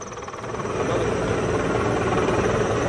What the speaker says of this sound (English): Finally, the Mississippi National Guard led its Sky Crane helicopter.